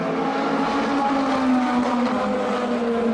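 A BMW hypercar's engine drones steadily and loudly, a constant buzzing tone holding nearly level for a few seconds with broad road and wind noise around it, and no voices.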